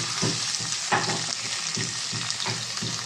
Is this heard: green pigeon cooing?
no